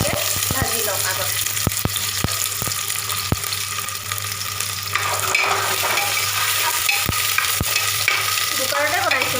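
Onion frying in oil with bay leaf, cardamom and cinnamon inside a pressure cooker in a home kitchen, a continuous sizzle broken by sharp clicks and scrapes of stirring, with a low hum underneath.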